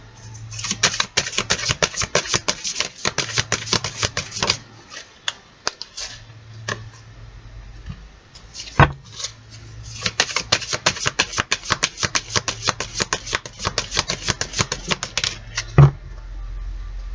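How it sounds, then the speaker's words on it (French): Oracle cards are shuffled by hand in two long bursts of rapid, crisp riffling clicks separated by a short pause, recorded close and alone. "on va tirer 4 cartes dans un premier temps et on verra si on a besoin d'en tirer une autre"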